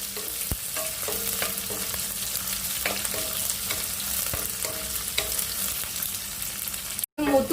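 Shallots, green chillies and curry leaves sizzling in hot oil in a pan, a continuous close crackling hiss broken by repeated scraping and knocking of a stirring spoon, with a short pause near the end.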